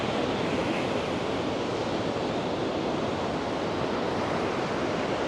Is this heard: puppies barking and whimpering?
no